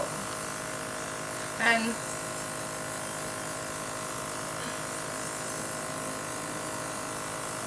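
Temptu airbrush misting liquid foundation onto a face in small circles, a steady faint hiss running throughout, with one brief spoken word and a small bump of handling noise near the start.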